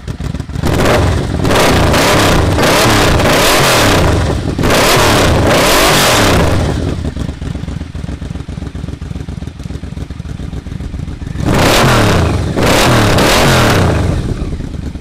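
A Yamaha VMAX motorcycle engine revs hard in several loud bursts, dropping to a rumbling idle between them, then roaring up twice more near the end, at a motorcycle and family day event.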